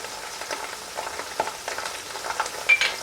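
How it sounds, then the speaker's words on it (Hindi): Ground tomato paste hits frying mince for shimla mirch keema, giving a soft, steady sizzle with light crackles and small stirring bursts, close and moderately quiet, with no talk. "2 मिनट भून लेने के बाद आप इसमें ऐड करेंगे टमाटर"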